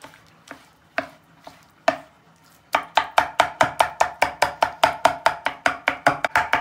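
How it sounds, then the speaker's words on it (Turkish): A knife chops through eggplant on a cutting board, starting with a few sparse strikes and then settling into a fast, steady run of sharp, evenly spaced chops, close and loud, with no talking. "Hemen şöyle patlıcanımıza vuralım bıçağımızı."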